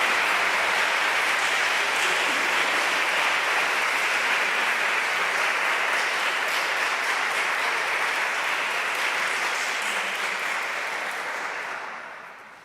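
Audience at an annual meeting giving a sustained round of dense applause, loud and continuous, fading out near the end.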